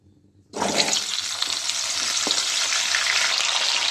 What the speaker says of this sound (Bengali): আমি শিমটা কড়াইতে দিয়ে দিচ্ছি।